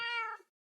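A single cat in a cat cafe gives one short, clear meow, close and alone, that fades out quickly.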